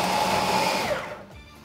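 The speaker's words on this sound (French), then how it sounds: "Je vais encore donner un petit coup de mixeur." A kitchen blender whirs loudly and steadily while mixing ingredients for a candied fruit cake with raisins, then the motor winds down near the end.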